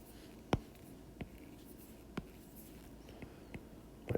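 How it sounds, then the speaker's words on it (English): Pen writing on paper for a math lesson makes soft scratching strokes with a few sharper taps spaced irregularly over the seconds, close and quiet against a faint steady hiss. "So here, I'm just going to write my base."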